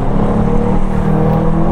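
A McLaren GT grand tourer's 4-litre twin-turbo V8, the 720S engine fitted with new turbos and rated at 707 hp, pulls hard in a loud, continuous, close-up roar with no voices over it.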